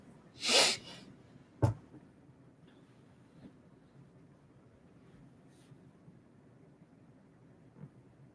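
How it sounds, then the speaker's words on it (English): A single sharp sneeze bursts out loudly near the start, followed by a brief snort-like exhale, then near silence with faint room noise. "You got 30 seconds for the sneeze."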